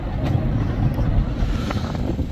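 Strong, blustery wind buffets the microphone on an exposed Cumbrian point by the water in spring, a steady low roar with heavier gusts throughout and no voices.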